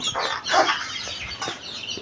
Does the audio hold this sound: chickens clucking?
yes